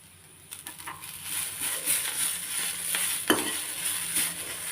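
Roasted gram and coriander being stir-fried in a pan, with scraping and stirring, a soft sizzle and a sharp clink of the spoon against the pan partway through.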